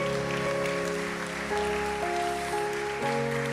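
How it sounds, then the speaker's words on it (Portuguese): A church congregation at a worship service claps briefly for the Lord while sustained keyboard chords ring over the crowd, the applause a soft, continuous patter beneath the music. "Pode aplaudir ao Senhor mais uma vez."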